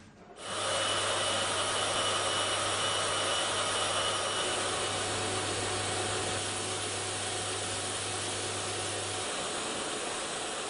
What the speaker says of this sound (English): 5 experts, 30 different vacuum noises.